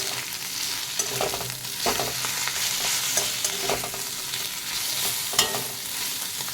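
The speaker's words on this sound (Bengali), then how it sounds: "লবণ দিয়ে দেব, হলুদ গুঁড়ো দিয়ে দেব, অল্প একটু লঙ্কা গুঁড়ো দিয়ে দেব। ভালো করে নাড়িয়ে নেব।" Fish head being stirred in a frying pan with salt, turmeric and chili powder, a steady oily sizzle under repeated scraping strokes of the spoon, close and alone with no talking.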